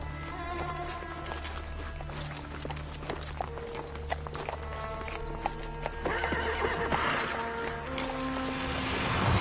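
A horse approaches in a Roman-era drama, its hooves clip-clopping steadily amid neighs and whinnies, with the sound growing louder and nearer toward the end.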